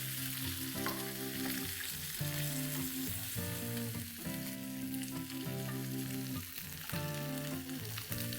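Pomfret fish slices fry in oil with a continuous, even sizzle and crackle lasting throughout, set against a soft tonal background that sounds like music.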